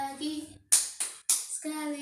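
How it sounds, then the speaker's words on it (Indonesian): Children in a second-grade classroom clap their hands three times in crisp bursts, breaking between sung phrases of a teacher-led song; young voices sing before and after the claps. "Tepuk tangan, tepuk tangan, tepuk tangan, bergembira"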